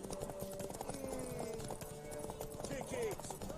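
Horse hooves clip-clop at a quick, steady gait in The Witcher 3, fairly faint beneath game voices and background sound.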